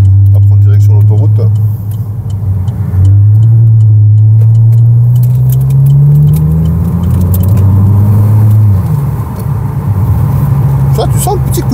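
Opel Insignia OPC Line V6 turbo, Stage 1 tuned to 300 hp, pulls hard on the way onto a motorway, its loud engine drone climbing in pitch through gear changes, heard steadily from inside the cabin.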